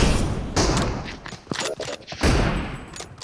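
Bursts of gunfire crackle in a multiplayer shooter video game match, several quick shots and rattling volleys close together, loud and punchy, with faint talk underneath.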